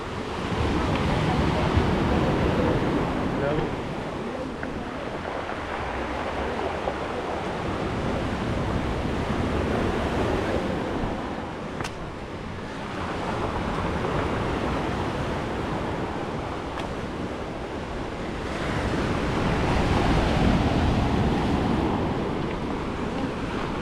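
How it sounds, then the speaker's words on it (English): Surf rolling onto the pebble beach at Riomaggiore in the Cinque Terre, a loud continuous wash of waves swelling and receding in slow surges, mixed with wind buffeting the microphone. "So this is the beach of Rio Maggiore."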